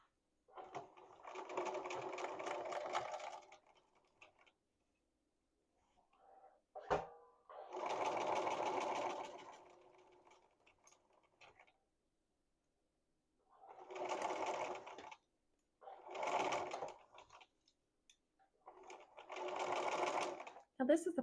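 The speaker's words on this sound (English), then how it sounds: "so here we are at the machine. I'm going to adjust my stitch length back to a regular stitch length" A domestic sewing machine stitches a dress between two rows of basting stitches, running in several separate bursts of steady whirring and needle clatter a few seconds long, with quiet pauses between them.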